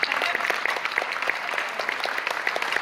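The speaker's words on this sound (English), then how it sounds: "Let's give her a round of applause." Audience applause for a leg model at a live beauty product demonstration, a steady wash of many hands clapping with brighter individual claps popping through, moderately loud and continuous without speech.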